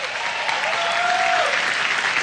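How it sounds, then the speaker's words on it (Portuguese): A youth conference crowd in a large venue applauds the band, a loud, even wall of clapping lasting a couple of seconds with a faint whistle gliding over it. "Vamos dar um aplauso pela banda."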